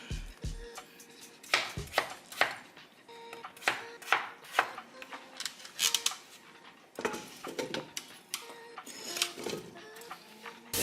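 A knife slices food on a cutting board in a home kitchen, with sharp irregular knocks and scrapes coming in uneven bursts against faint background noise.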